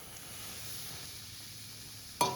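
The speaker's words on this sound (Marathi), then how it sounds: "हे छान खरपूस असं सुगंध येईपर्यंत परतून घ्यायचं आहे।" Semolina fries in a tempering of urad and chana dal, a soft, steady sizzle running close and quiet, broken near the end by one sharp scrape or clank.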